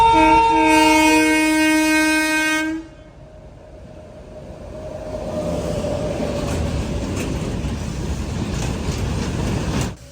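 A goods train passing Nedumangalam junction sounds a loud, sustained horn blast for about three seconds, then fades into the steady, close rumble and rattle of wagons rolling by.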